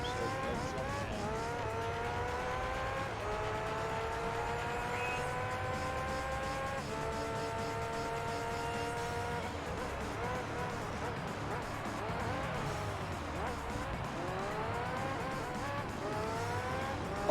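Racing engine of an LMP prototype race car in the Gran Turismo 3 video game, loud and continuous, with repeated rising whines cut by quick gear shifts across the whole stretch.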